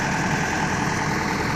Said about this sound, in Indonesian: mesin ekskavator mulai dihidupkan, sudah mulai beroperasi